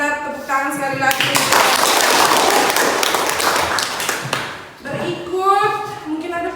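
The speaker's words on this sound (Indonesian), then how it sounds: "Kita tepuk tangan sekali lagi." A classroom group claps hands together during a lesson, a burst of dense clapping that swells, holds for several seconds, then stops, with speaking voices before and after.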